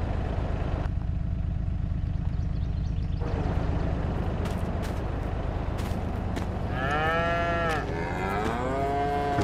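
Cattle mooing on a Missouri farm in Farming Simulator 22: two drawn-out moos near the end rise over a steady low engine-like hum.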